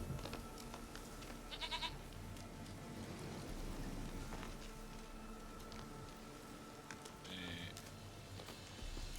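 A goat in the video game The Witcher 3 bleats a few times, short and fairly quiet, over a soft, steady ambient game background with no talking.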